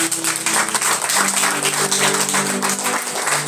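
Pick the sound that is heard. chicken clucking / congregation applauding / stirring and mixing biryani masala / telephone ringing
congregation applauding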